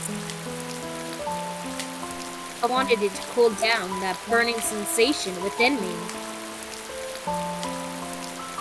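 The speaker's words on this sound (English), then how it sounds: "Rain kept pouring down like strings." Heavy rain pours down in a steady wash beneath gentle tonal music, with a single voice speaking in the middle stretch.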